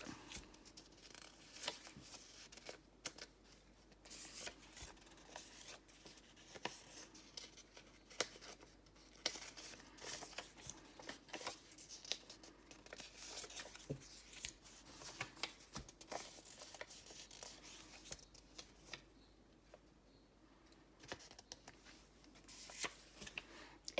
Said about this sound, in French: Je distribue une carte à chacun.